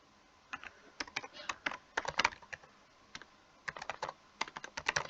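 Typing on a computer keyboard, bursts of light, close key clicks in irregular quick runs with short pauses, quiet and alone.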